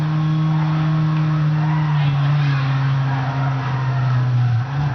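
A car engine in the video game Midnight Club LA drones at a steady pitch, with a slight downward pitch drop as it upshifts, loud and continuous.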